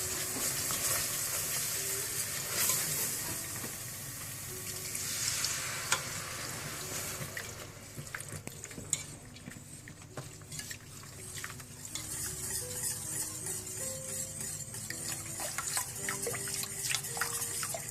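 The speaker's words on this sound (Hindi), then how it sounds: "मुसलसल चम्मच आपने हिलाते जाना है, थोड़ा थोड़ा करके डालना है आपने।" A spoon stirs a flour and milk sauce in a pan, producing continuous soft scraping and sloshing, with liquid poured in as it is worked and a light sizzle underneath, close and moderately quiet.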